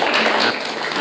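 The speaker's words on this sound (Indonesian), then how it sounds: "tepuk tangan kalian semuanya" Brief burst of classroom applause from students in an Indonesian religious education lesson, a dense wash of clapping lasting about a second.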